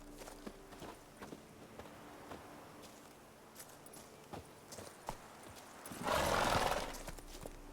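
Roach the horse from the video game The Witcher 3 walks with soft, evenly spaced hoof clip-clops, then a louder whinny-like swell near the end.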